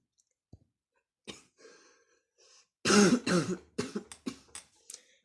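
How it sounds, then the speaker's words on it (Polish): A man who is ill clears his throat and coughs several times in a row: a rough throat-clearing rasp followed by a string of short, close, dry coughs, with no speech. "Ja przepraszam na wszystkie moje kaszlnięcia i te, ale jestem chory"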